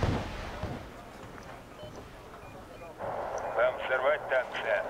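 A heavy artillery blast opens, then a lull, then a rhythmic series of booming impacts and shots in the Wargame Red Dragon battlefield, mid-distance and fairly loud, with someone talking over it.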